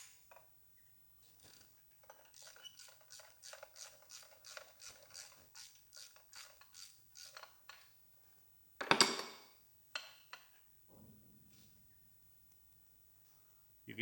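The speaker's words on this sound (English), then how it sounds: "that's the door just bumping in the track." A shed door bumps and rattles in its track with a steady run of quick ratcheting knocks, then one louder clattering bang and a few scattered thuds, heard from inside a workshop during a Massey Ferguson 135 tractor restoration.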